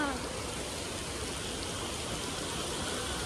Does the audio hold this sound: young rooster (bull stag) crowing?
no